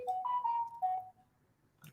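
A phone ringtone plays a short melodic phrase of a few clear, stepped tones, then cuts off into near silence with a faint knock at the end.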